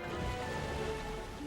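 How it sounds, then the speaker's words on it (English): Steady rain in the video game Pokopia, a constant broadband hiss of falling drops holding at an even level throughout, with faint tonal game sounds layered underneath. "Sure do love me some nice rain!"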